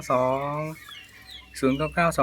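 A bantam chicken of the Tomtam line from Khon Kaen, Thailand, with benjarong-coloured plumage, gives a few loud, close clucks and short calls separated by a brief pause.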